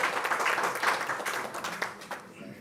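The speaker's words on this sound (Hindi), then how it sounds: "आप जोरदार तालियां बजा करके उनका स्वागत करें, सम्मान करें।" An audience applauds to welcome a chief guest at a birthday celebration event for India's prime minister, with steady, dense clapping that thins out toward the end.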